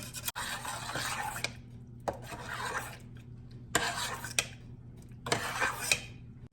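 A utensil stirs a freeze-dried milk mixture for homemade sweetened condensed milk, making four separate bursts of scraping and rasping against the bowl with short quiet gaps between them.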